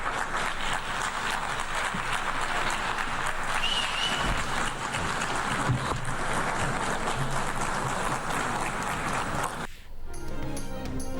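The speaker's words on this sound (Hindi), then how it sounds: "शहबाज शरीफ खिताब के लिए डाइस पर आए तो हॉल तालियों से गूंज उठा।" Applause fills the UN General Assembly hall as Pakistan's prime minister comes to the podium, a sustained, dense round of clapping from a large audience that cuts off near the end.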